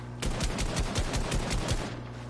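A gun in the Fortnite video game empties a whole magazine in one rapid burst, a quick string of about a dozen close, punchy shots that stops abruptly, with no talking.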